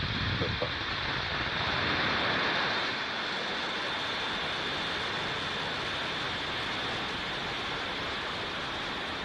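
SpaceX Falcon 9 booster B1058 lifts off with a distant, steady roar of rocket engines. The broad rumble holds throughout with no voices.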